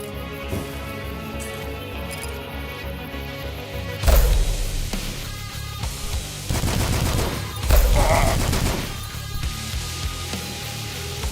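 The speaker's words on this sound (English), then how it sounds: "Alright, more machine gun ammo." Machine gun fire in a video game, with heavy bursts of rapid, loud shots that come in clusters and alternate with quieter gameplay sounds and crashes.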